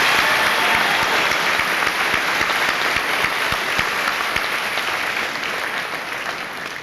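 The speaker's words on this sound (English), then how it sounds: "I said we're going to give her a round of applause even if she's not here." A high school senior assembly audience gives a sustained round of applause, loud and dense with many hands clapping together, gradually tapering off toward the end.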